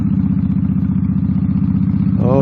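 Motorcycle engine droning steadily while riding, a loud continuous low rumble close to the rider, rising slightly in pitch near the end.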